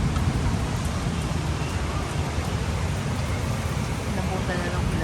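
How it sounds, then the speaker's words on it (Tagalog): Heavy rain pours steadily on a terrace during the Philippine rainy season, with wind and thunder rumbling beneath a dense, loud, continuous hiss; a voice speaks over it. "Yan, lakas ng ulan."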